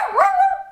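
A pet dog being trained gives a single short, whining bark that rises and then trails off into a thin tonal yelp, close and fairly loud, with no talking.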